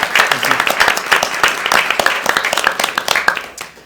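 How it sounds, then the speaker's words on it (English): Close, fairly loud applause at a university board of trustees meeting, a small group clapping in uneven bursts that thin out and fade by the end. "So I just want to give you a round of applause here."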